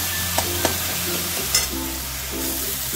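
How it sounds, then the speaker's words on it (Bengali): Spice paste of salt, turmeric and ground green chilli sautéing for a pabda fish curry gives a steady close sizzle, with a few sharp spoon scrapes and clinks against the pan scattered through. "দেখো মশলাটা কষানো হয়ে গেছে।"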